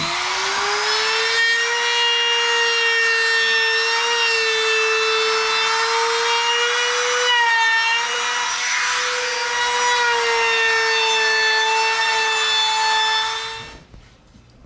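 A Ridgid belt sander smoothing the cut edges of wooden Adirondack chair parts gives a loud, steady, close whine heard alone, cutting off abruptly at the end.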